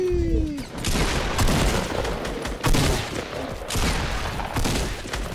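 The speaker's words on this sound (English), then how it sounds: "I'm shooting them out from underneath me!" Rapid bursts of video game gunfire crackle in overlapping volleys throughout, loud and close, like a squad firefight in a shooter game, with no clear speech over the shots.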